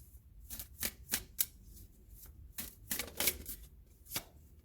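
Tarot cards are shuffled and drawn in a quiet room, giving a series of sharp, crisp riffling snaps and slaps spaced irregularly over several seconds, close and fairly faint.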